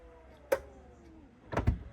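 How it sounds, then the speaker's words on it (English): Power tailgate on a Honda ZR-V closing automatically: a soft motor whir with a click near the start, then a firmer thud and latch as it shuts, heard up close in quiet. "Power tailgate. You can set it so when you walk away from the vehicle, it closes."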